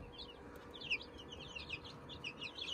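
A brood of young chicks in a warm brooder keeps up continuous high, thin peeping and chirping, a dense overlapping chorus at moderate loudness over a steady low hum.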